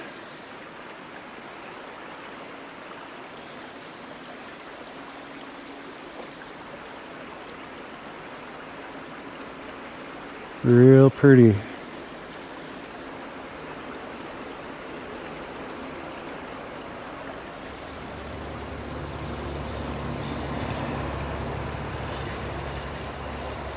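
Pilchuck Creek flowing steadily off Kavanaugh Road, a constant broad wash of moving water throughout, with a man's short remark briefly heard partway through.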